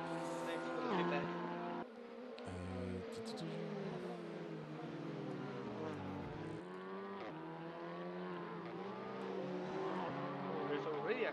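Race car engines in a racing video game during a full race at the Macau circuit, droning steadily and revving, with the pitch sliding up and down through gear changes and several overlapping engine tones.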